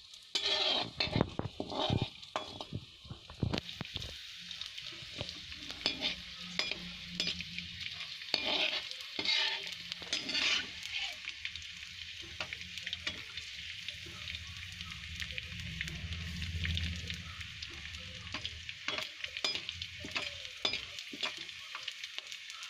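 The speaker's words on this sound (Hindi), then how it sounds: "ऐसे हम बाकी गोंद को भून लेंगे।" Edible gum (gond) frying in hot ghee in a pan, a steady close sizzle with frequent stirring scrapes and clinks throughout, no voices.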